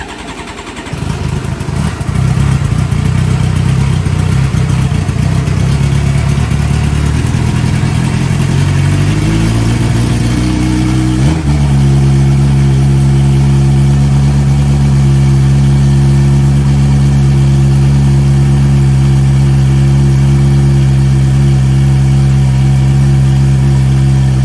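A Suzuki GSX-R600 motorcycle engine catches and settles into a loud, steady idle right up close, its rumble holding even for a long stretch.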